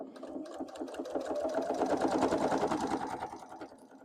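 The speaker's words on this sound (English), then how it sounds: "when I'm sewing the binding on" A sewing machine sews binding onto a quilt, a close, steady rapid needle chatter that swells in the middle and eases off toward the end.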